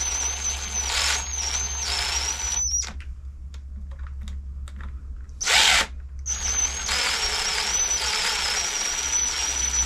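A power driver whines in short bursts while driving screws into an engine under build for a DT3, two long spells of loud high whirring broken by quiet gaps and a brief squeal, with no talk.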